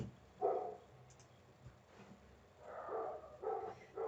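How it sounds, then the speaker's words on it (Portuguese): Dogs bark somewhere nearby in a few rough bursts, one early and a longer run near the end, moderately loud against a quiet room. "só desculpa aí a barulheira dos cachorros latindo"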